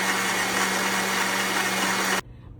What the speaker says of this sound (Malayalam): നമുക്കിനി ഇത് മിക്സിയിലൊന്ന് അരച്ചെടുക്കാം.